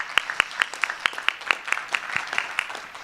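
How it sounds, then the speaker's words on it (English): Applause at a small business summit for the event team: sparse, distinct hand claps in a loose steady rhythm, fairly close, with a faint murmur of the room behind. "So let's give them a real good thank you and applause."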